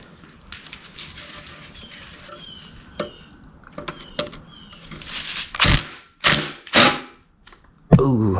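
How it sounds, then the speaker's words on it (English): A screwdriver works Phillips screws out of a Yamaha motorcycle muffler. Close metallic clicks, ratcheting ticks and creaks come in irregular bursts, with louder gritty scrapes near the end. "We've got two Phillips here that we gotta take off."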